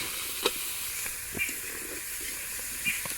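Cumin and ginger paste frying in hot oil gives a steady, close hiss of sizzling, with a few faint stirring clinks and soft pops scattered through it, and no talking.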